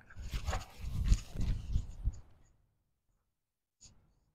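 A dog pants and huffs close by in quick rhythmic breaths for a couple of seconds, then falls quiet apart from one short faint sound near the end.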